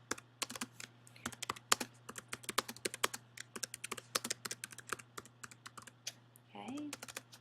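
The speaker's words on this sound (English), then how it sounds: "I'm going to go ahead and type in my text" Rapid, irregular clicks of typing on a computer keyboard, close and crisp over a steady low electrical hum, with a brief voice-like tone near the end.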